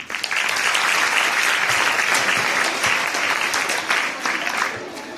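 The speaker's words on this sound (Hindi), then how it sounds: "एक बार फिर से जोरदार तालियां बजा दीजिए" Loud, close audience applause following a Hindi poem recitation at a Hindi poetry event, a thick burst of clapping from many hands that continues steadily for several seconds with small swells.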